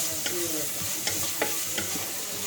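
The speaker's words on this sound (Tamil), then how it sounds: "இது நம்ம வந்து லைட்டாக வதக்குனா போதும் இல்லையா?" Ginger garlic paste, green chili, cashews and mint sautéed in a pan for peas pulao, with a steady soft sizzle and a few sharp spatula scrapes and taps spaced through a short stretch.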